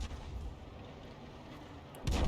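A 105 leFH18B2 artillery gun fires in a video game, a single loud booming shot bursting in near the end after a low rumbling lull.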